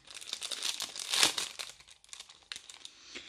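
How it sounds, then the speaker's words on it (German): A plastic bag package from a shopping haul crinkles and rustles close by as it is pulled open, with a louder tearing crackle midway and softer scattered crinkles after. "da haben wir dann so die Tüte, ne? Die macht man dann so auf."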